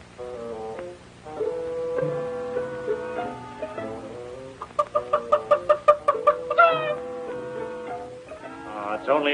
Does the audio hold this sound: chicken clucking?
yes